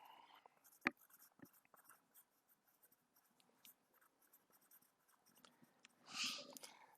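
Pen writing out notes during a math lesson on continuous probability distributions: quiet scratchy strokes and small taps, one sharp knock, and a brief louder squeak near the end.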